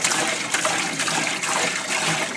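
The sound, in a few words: part dumped into a parts washer, liquid sloshing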